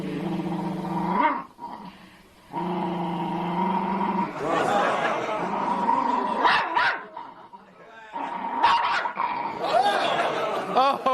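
An angry dog barks and growls in loud, repeated bursts with brief gaps between them, the snarling harsh and close.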